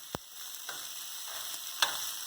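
Shrimp and vegetables stir-fry in a pan with a faint, steady sizzle, broken by a few sharp clicks and scrapes of a utensil mixing the food.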